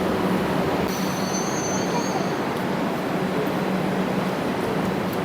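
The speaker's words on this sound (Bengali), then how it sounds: "তো দেখো আমাদের ট্রেন চলে আসলো, এবার তো আমরা ট্রেনে উঠে যাব।" A train pulls into a station, rumbling past close by in a steady, loud roar, with a brief high metallic squeal of wheels near the start.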